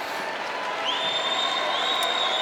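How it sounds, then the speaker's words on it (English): Penn State wrestling crowd at a 2014 Big Ten match, rising to its feet with sustained applause and cheering, a dense, even roar of clapping with a whistle cutting through partway. "the Penn State crowd comes to their feet"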